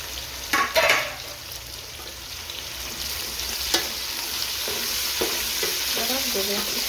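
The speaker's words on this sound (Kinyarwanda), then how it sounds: "Ubu ngubu tugiye gushyiramo pavuro n'igitunguru." Bell pepper and onion frying in a pan with steady broadband sizzle, punctuated by a few sharp utensil scrapes and stirring knocks, with no voices.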